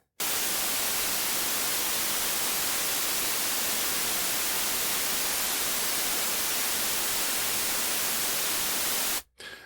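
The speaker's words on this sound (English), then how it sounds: "I have a recording of white noise, just so you know what I'm talking about." Steady, dense hiss of white noise fills the whole stretch at an even level, starting and stopping abruptly with no other sound.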